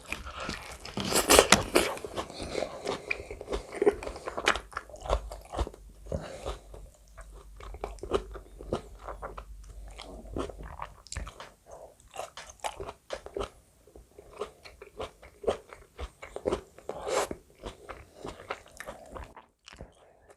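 Close, wet chewing and biting of a beef burger layered with soft eggplant, irregular crunches and mouth sounds alone without talk for about twenty seconds.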